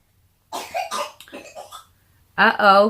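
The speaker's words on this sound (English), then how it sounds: "who's coughing?" A voice makes a few short sounds, then a single loud, harsh cough bursts out clearly near the end.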